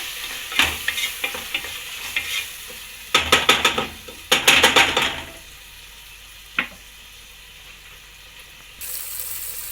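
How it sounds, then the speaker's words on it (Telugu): Tomatoes and onions frying with turmeric in a pan for sambar, stirred in bursts: a steady sizzle under clusters of sharp spoon scrapes against the pan, close and with no talk. "టమాటా ఆనియన్ బాగా ఫ్రై అయిపోయాయండి"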